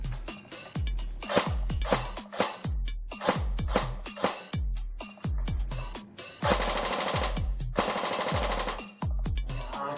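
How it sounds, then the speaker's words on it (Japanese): Rapid bursts of sharp, metallic blowback fire from an S&T TAR-21 airsoft rifle with a stock motor, several short strings of shots with brief pauses, loud and close, no talking. "こちら名前にもある通りブローバックモデルということで、しっかりとこの排気口がブローバックします。"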